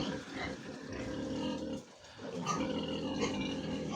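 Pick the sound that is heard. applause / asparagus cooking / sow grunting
sow grunting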